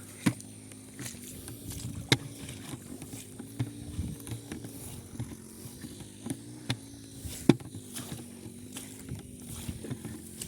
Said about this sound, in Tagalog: Ayun, yung makina.